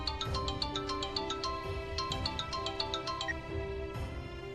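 A phone on an outgoing call rings in a repeating electronic ringtone pattern of bright, rapid tone bursts, steady and fairly loud over a low background hum, with no talking.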